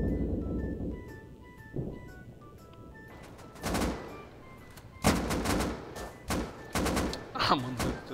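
Gunfire in the video game Rust: scattered single shots and rapid automatic bursts, sharp and loud, following a stretch of quiet tonal game sounds.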